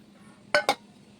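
A metal puja vessel clinks twice in quick succession while being washed with water, two bright, close taps over a quiet background.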